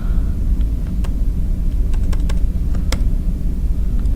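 Someone types on a computer keyboard, giving a few sparse, sharp key clicks over a low steady background rumble, with no talking.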